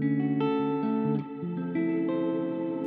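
Sustained electric guitar chords played through a clean tone with dreamy, washy reverb ring out loud and alone, shifting every half second or so with no talking.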